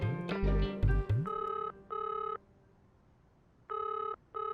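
Telephone ringing indoors in a Hindi sitcom setting: repeated electronic ring bursts with steady harmonic tones, two long rings then another after a pause, following some brief noisy thumps at the start.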